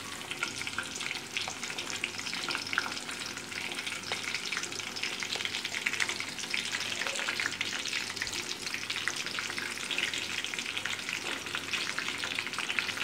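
Whole shallots frying in hot oil for a homemade hair oil, a steady close crackling sizzle with scattered pops and occasional stirring, continuous and fairly soft throughout.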